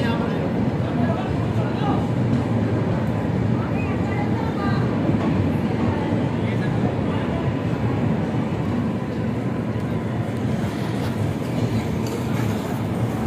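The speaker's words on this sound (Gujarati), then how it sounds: "આપણી ટ્રેન મથુરા રેલવે સ્ટેશનની અંદર એન્ટર થાય છે" A passenger train slowly entering Mathura railway station on the Rajkot to Haridwar route without stopping gives a steady, dense rumble of rolling wheels and carriages that holds at an even loudness throughout.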